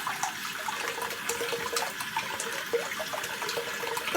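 Running water splashes close and steady as a shaving soap puck is rinsed off, a continuous bright gurgle with small irregular spatters.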